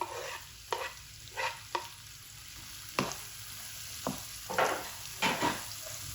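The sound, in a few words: frying and stirring capsicum in pan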